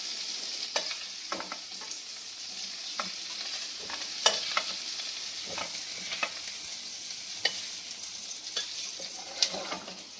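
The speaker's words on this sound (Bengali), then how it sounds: "আর এখানে হচ্ছে আমার ইলিশ মাছ ভাজা হচ্ছে।" Hilsa fish fries in hot oil with a continuous soft sizzle, punctuated by scattered sharp spits and stirring scrapes at irregular intervals, close and fairly quiet, no voices.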